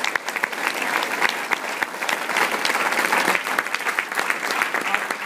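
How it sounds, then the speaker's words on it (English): An audience applauds steadily for Stefan Terblanche at an event, a dense, continuous wash of many hands clapping close by, with some crowd murmur underneath and no individual voices standing out. "let's give Stefan Terblanche a big round of applause"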